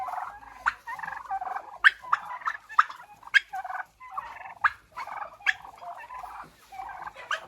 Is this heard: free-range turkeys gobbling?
yes